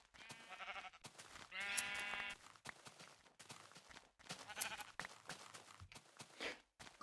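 A flock of sheep in the Minecraft video game bleats in a string of short, separate calls, several in a row with brief gaps, quiet and unaccompanied by talk.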